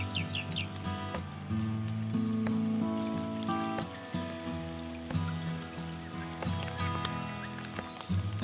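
Rain patters steadily on a river around a kayak, a soft continuous hiss with scattered drips and faint birdsong in the background.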